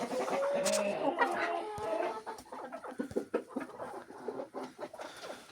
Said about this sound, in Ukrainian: Ух і кури.